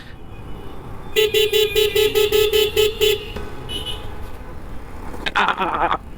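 Heavy road traffic in Mohakhali, Dhaka, rumbles steadily while a car horn blares in a rapid run of repeated honks, followed by a brief toot and then another harsh burst of honking.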